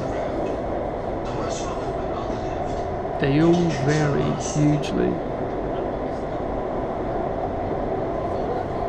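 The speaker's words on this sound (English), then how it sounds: "being on different underground systems, whether you want to call it the tube, the metro, the underground" Subway train riding on the Shanghai metro, a steady low rumble and hum of the moving carriage filling the space while someone speaks briefly over it.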